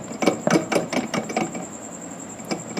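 Broken, seized vehicle axle turned by hand, giving a series of close, dry clunks and grinding knocks in an uneven rhythm that thin out toward the end.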